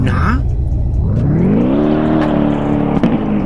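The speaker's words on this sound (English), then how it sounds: "That car kinda sound weird, but it's okay." A car engine in the Roblox game Tha Bronx 2 revs up with a rising whine and holds a steady drone, loud and close, with a brief knock near the end.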